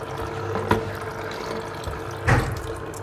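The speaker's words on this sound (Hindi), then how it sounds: "मशीन के अंदर पानी जा रहा है और वापस वहीं रोटेट होके वहीं आ रहा है।" Water runs through a Kangen water machine during a deep-cleaning cycle: a steady low flowing wash with two brief louder gushes, close and continuous, with no voices.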